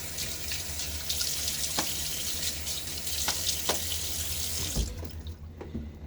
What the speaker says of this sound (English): Splash some water on my face.